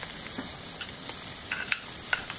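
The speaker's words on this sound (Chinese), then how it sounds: "油热后下入五花肉，将肉片炒香，炒出油，炒至表面微黄" Pork belly slices stir-fry in hot oil, giving a continuous bright sizzle with spatula scrapes and small pops throughout, close and fairly loud.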